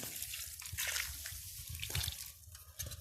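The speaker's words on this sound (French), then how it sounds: "On va rajouter un peu d'eau." Water is poured into a garden soil mixture, giving a close, continuous trickling and splashing with small irregular drips and no speech.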